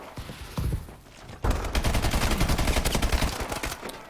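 EM1 directed-energy laser weapon in Call of Duty Advanced Warfare fires in a rapid continuous buzzing stream, a short burst first, a pause, then a longer sustained volley with dense rhythmic pulses and battle noise around it.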